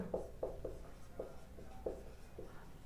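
Marker or chalk writing on a classroom board during a computer basics lesson, six short scratchy strokes spaced irregularly across a few seconds, fairly faint and close, with no talking.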